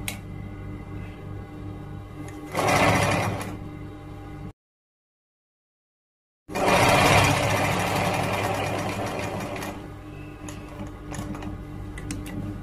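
A sewing machine stitches the side seam of a men's robe, giving a close mechanical hum with a louder burst. It breaks off into a couple of seconds of silence, then starts again in a strong run that slowly eases.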